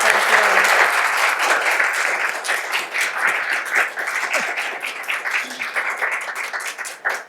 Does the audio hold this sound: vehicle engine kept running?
no